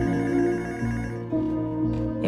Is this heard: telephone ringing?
yes